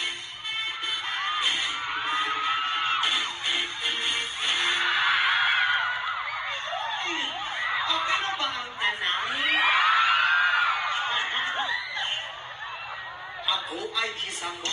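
A large crowd screams and cheers continuously, with high-pitched shrieks and whoops swelling and fading over a steady roar at a packed public performance, loud and dense with no clear speech on top.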